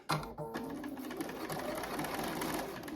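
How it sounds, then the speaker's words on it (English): A sewing machine runs steadily for a few seconds as it stitches fabric near a seam, with a close, continuous mechanical whir and a short clatter at the start. "I'm going to start stitching just before that seam"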